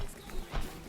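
Quick footsteps in the video game Infestation: Survivor Stories land as a couple of soft, close thuds in under a second.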